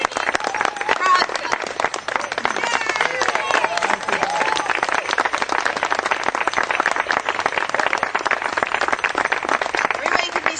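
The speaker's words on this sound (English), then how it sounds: "a warm round of applause" Sustained audience applause at a graduation ceremony, dense steady clapping from a large crowd lasting throughout with a few voices mixed in.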